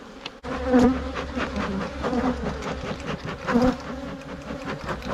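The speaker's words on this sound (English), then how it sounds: "Wow, there's a lot of bees around now." Honeybees swarm around a beehive during honey harvesting, a dense, continuous buzzing close to the microphone with individual bees swelling louder as they fly past, no voices.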